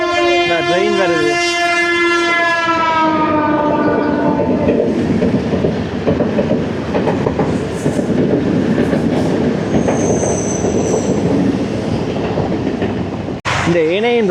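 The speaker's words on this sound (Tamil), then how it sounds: "ட்ரெயின் வருது." A train passes close by in heavy rain in Chavakachcheri, opening with a loud, sustained horn blast that fades into a long, steady roar of rolling cars and wheels, with brief faint talk underneath.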